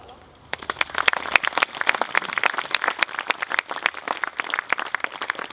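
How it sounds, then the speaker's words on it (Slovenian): Applause from a crowd at an award ceremony starts abruptly and continues as steady, close clapping, with a voice faintly audible underneath. "še enkrat torej vse nagrajence pospremimo z aplavzom"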